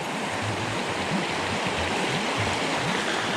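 Water rushing and bubbling over rocks at a waterfall in Eau Claire Gorge, a steady, full, close churning roar with low gurgling tones and no voices.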